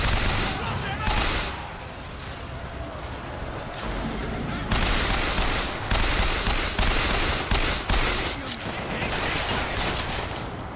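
Rapid bursts of gunfire from a firefight in the video game Bioshock Infinite, loud repeated volleys and sharp shots close by, with a voice talking at times over the shooting.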